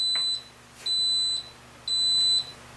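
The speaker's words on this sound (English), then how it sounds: "And that beeping means that my pressure cook is on" An Instant Pot pressure cooker set to ten minutes on high pressure beeps three times in a steady, evenly spaced pattern of sustained high electronic tones, near and clear over a quiet kitchen background.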